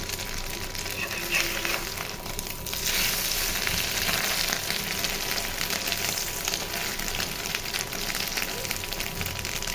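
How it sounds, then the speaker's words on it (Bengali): An egg fries in a pan with a continuous, fairly loud sizzle and crackle throughout, spattering steadily without pause. "ডিম ভাজি ডিম"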